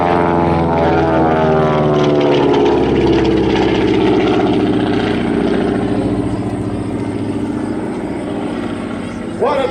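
A restored propeller airplane, once a navigator and radio trainer, flies past at an air show, its engines a loud, steady droning roar that swells and slowly fades over the whole stretch.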